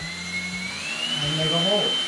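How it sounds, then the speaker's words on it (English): A power drill bores a hole in a Fluval canister filter's plastic spray bar, a steady whining motor that rises in pitch over about two seconds, close and continuous, with no talk over it. "So we just get our drill, whatever drill bit size that we want, and pick a spot."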